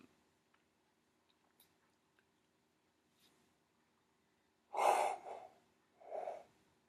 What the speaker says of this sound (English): Oh my god, all that yawning.